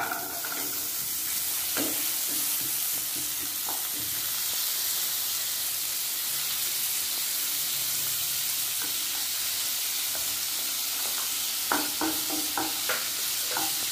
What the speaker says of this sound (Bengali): গ্যাস আস্তে দিয়ে গাজরটাকে ভালো করে ভেজে দিচ্ছি।